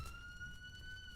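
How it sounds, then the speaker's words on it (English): A police car siren from the Roblox game plays as a steady, high electronic tone. It is faint and continuous across the whole short stretch. "Turn your sirens off before I get an I'm aneurysm."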